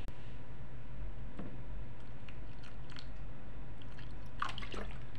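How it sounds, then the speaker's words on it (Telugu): Water poured into a bowl of oats already soaking in milk, a soft liquid trickle and wet squish over a steady background hiss, with a few sharper splashes and clinks near the end. "సో నేను దెన్ కొన్ని వాటర్ యాడ్ చేస్తాను, ఎందుకంటే మిల్క్ మనం వేసిన తర్వాత కొన్ని వాటర్ వేసుకుంటే సరిపోతుంది."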